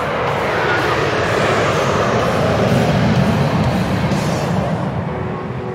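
Alpha Jet jet engines of the Patrouille de France lined up at Salon de Provence air base, a loud, steady broadband roar that holds throughout with no talk.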